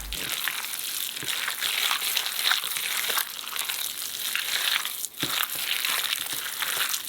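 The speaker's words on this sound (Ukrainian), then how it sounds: "Фарш добре перемішуємо." Wet, squelching crunches of minced meat for homemade sausage being mixed by hand with ice water, steady and close, with no talking.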